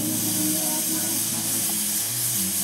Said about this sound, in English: we're just gonna put the steam right on that dent